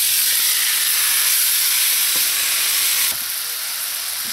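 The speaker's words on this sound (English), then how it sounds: "To this, I'm going to add the shrimp that we had marinating." Marinated shrimp fry in melted Golden Ray in a pot over medium-high heat, a loud steady sizzle and hiss throughout with a few faint clicks, close up and without speech.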